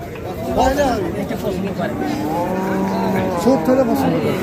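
A desi cow at a Bangladeshi cattle market gives a loud, drawn-out moo nearby, then a shorter one, while buyers and sellers talk over a bustling crowd.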